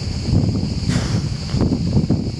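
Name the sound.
light wind blowing outdoors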